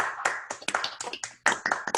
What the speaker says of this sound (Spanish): Daniel, el aplauso virtual con distanciamiento social, pero con cariño